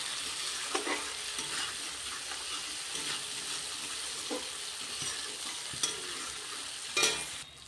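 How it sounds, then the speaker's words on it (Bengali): Tomato masala sizzles hard in a pan, with a continuous close fry and repeated scraping stirs at an uneven rhythm. No voices are heard over the cooking. "এবার এটাকে ভালো করে কষাবো।"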